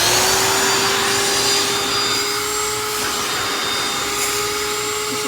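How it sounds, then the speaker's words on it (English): Steady loud roar of a vacuum cleaner pulling hair out of a car interior, a constant whine holding throughout with no talking. "I'm hoping you can hear me okay over this vacuum."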